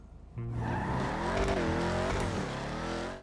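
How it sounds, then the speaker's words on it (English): A Dominator GTX muscle car in GTA 5 Online kicks in with a loud, deep exhaust roar, revving hard as it accelerates, with tire squeal layered over the engine before it cuts off. "First of all, the exhaust still sounds awesome."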